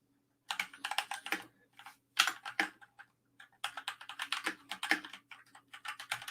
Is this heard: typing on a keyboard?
yes